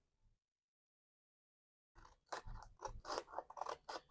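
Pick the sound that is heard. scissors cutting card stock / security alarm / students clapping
scissors cutting card stock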